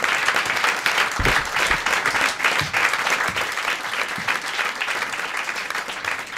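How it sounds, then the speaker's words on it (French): Loud, sustained applause from a large audience, dense clapping filling the room without pause. "Applaudissements pour Clémentine, tout le monde"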